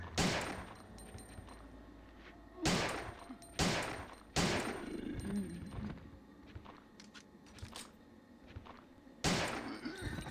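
Heavy gunfire from a weapon in the Resident Evil 3 PS1 game, with several loud booming shots spaced apart and a dense crackle of game sounds between them.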